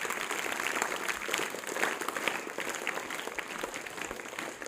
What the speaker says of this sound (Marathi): तुमच्या समोर येणारी दादा कोंडके यांच्यासाठी जोरदार टाळ्या व्हायला पाहिजे.